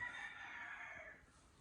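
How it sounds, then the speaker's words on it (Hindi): A rooster crows once, faint and distant, in a Pakistani village in the morning, its drawn-out call trailing off in an otherwise quiet setting. "बाहर से कुकड़ू की आवाज़ें आ रही हैं। मुर्गा अजान देता है ना,"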